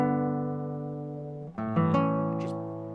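A guitar in G tuning sounds a sustained, resonant open chord that rings on, then a few fresh plucked notes are picked near the end, close and clear with no talking.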